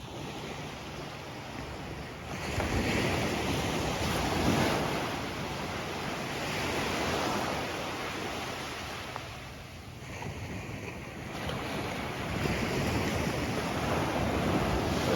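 Surf at Pak Meng beach in Trang, Thailand, rolls in as a steady, broad wash of breaking waves, with wind buffeting the microphone and gentle swells in loudness throughout, and no voices.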